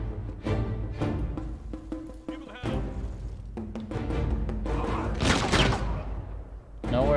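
Rifle fire in a battle against pikemen in the strategy game Humankind, ragged volleys of shots and booms overlapping with game music and effects, loud and dense.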